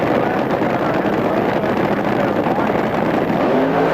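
A funny car drag racing run at Pomona, a 1981 NHRA Winternationals event, with a steady, loud, roaring engine rush and wind noise that hold throughout, under a commentator's voice.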